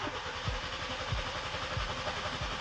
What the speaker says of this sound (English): it was time to start the engine